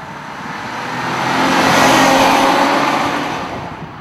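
A big, loud Chrysler 300 engine revving close by, the roar swelling to a peak and easing off over a few seconds, with no talk.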